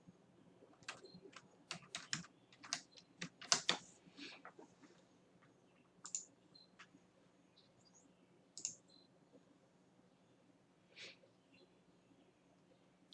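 A password being typed on a computer keyboard at login: a quick run of soft, close key clicks in uneven bursts, then a few scattered presses with quiet pauses between them.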